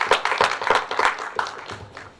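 An audience at a Phagua festival claps for folk artists, a short burst of scattered hand claps that thins out over two seconds, moderately close.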